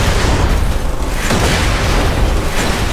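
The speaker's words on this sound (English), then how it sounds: "I think I missed the old rocket launcher." A rocket launcher explosion in the video game Borderlands 2, a loud, dense, sustained boom and rumble filling the whole clip with no clear pauses.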